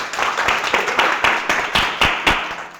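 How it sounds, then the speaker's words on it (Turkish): Audience applause for the songwriters at a televised music competition final, sparse rhythmic claps landing roughly every quarter second, fairly loud and close, with no talk. "Buradan onlara bir alkış alalım."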